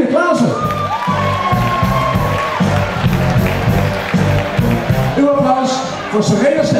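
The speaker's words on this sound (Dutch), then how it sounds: "Uw applaus voor Kevin Stel." Audience at a 2012 sports awards ceremony applauds and cheers steadily, a dense crowd roar with clapping and shouts, while a presenter talks over it and music plays underneath.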